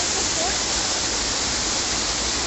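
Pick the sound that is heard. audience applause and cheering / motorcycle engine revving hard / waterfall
waterfall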